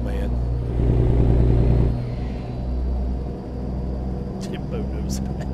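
A stretched-frame Peterbilt truck engine in a truck simulator game rumbles with a deep, steady low gurgle, swelling louder for a moment before settling back to a steady idle-like drone, with a voice talking over it.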